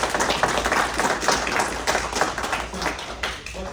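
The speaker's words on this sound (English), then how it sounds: "let's get around applause" Audience applause after a presentation, a dense, steady patter of many hands clapping for a few seconds with scattered faint voices underneath.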